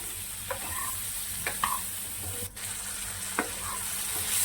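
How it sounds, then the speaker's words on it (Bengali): Ridge gourd and potato pieces fry in a pan with turmeric, giving a steady low sizzle broken by a few sharp scrapes of a spatula stirring the vegetables, with no one speaking. "এবার এটাকে আমি কিছুক্ষণ ভেজে নেব এই ঝিঙে আর আলুটাকে"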